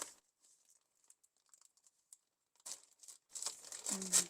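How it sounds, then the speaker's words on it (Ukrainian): Crinkly plastic wrapping rustles in short bursts, growing louder and busier toward the end, with a brief voice in the background. "Вибачте, трохи пошурудю."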